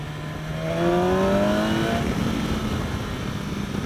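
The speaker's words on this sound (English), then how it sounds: "Very nice power, awesome exhaust note. This happens to have the Akrapovic exhaust on it." A 2016 BMW S1000XR motorcycle fitted with an Akrapovic exhaust accelerates, its engine note climbing in rising pitch sweeps and then settling into a loud, steady roar, close by with no talking.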